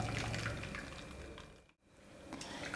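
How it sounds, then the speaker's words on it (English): Blended coconut pulp pours through a sieve into a bowl, a steady wet trickle and splatter of liquid that dips briefly to near silence before resuming. "Pour the blended coconut into a sieve."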